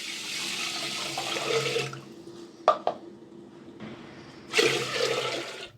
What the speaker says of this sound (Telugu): ఈ బియ్యాన్ని టూ టైమ్స్ నీట్గా అయితే వాష్ చేసుకున్నాను